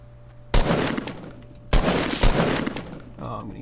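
Three loud, sharp sniper shots crack out in a Fortnite match, each followed by a rolling echo tail, spaced over about two seconds.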